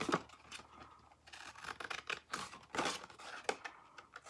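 Big scissors snip up the sides of a paper ribbon dispenser to form small side tabs, a quiet series of irregular crisp cuts and rustles close by, with short pauses between snips.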